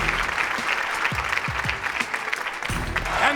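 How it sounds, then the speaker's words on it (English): An audience applauding Will Fuller at a gathering honouring players, with dense, steady clapping close by, a voice briefly heard over it. "One more round of applause for Will Fuller."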